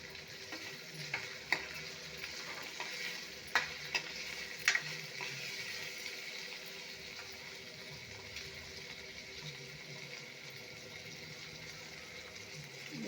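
Bitter gourd fries in oil with a continuous soft sizzle and a few sharp utensil clicks early on, moderately close, with no one speaking.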